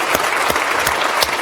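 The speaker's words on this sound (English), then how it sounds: "a round of applause, Rodney." A short burst of steady, dense clapping from an audience, sustained and fairly loud throughout.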